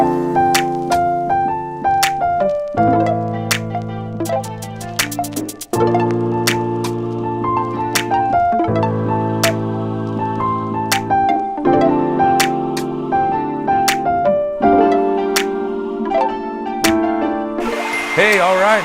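Lively piano chorus of a song played with chords and a bright melody, steady rhythm and clear close sound, with a short flourish of high notes near the end.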